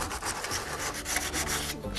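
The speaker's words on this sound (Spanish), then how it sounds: "Para meternos utilizaremos lija más corta, que no nos estorbe tanto, borraríamos las rayas" Sandpaper is rubbed back and forth over hand-carved wood on a decorative rosette, a close, steady rasping scrape in quick repeated strokes with no voices.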